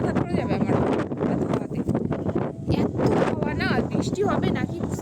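Strong wind gusts past a pond, buffeting the microphone with a dense, steady roar that runs the whole time. Voices talk faintly underneath.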